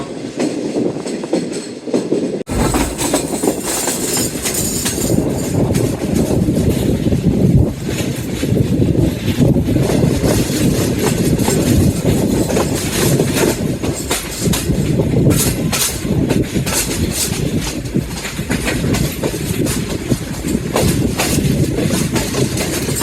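A train runs along a railway line close by, and its steady clickety-clack of wheels over the rails starts abruptly after a short quiet lead-in and rumbles loudly and continuously.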